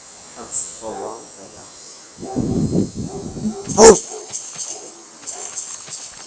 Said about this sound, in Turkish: Evet köpek havlıyor bir tane.